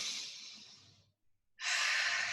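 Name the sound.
deep breath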